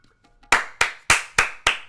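Small group of about eight people applauding in the video game Higurashi: five sharp, evenly spaced bursts of clapping, close and clear, after a faint quiet lead-in.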